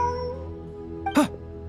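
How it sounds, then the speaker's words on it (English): A cat in Genshin Impact lets out a single short meow, clear and fairly near, against a quiet ambient game background. "Look, a cat."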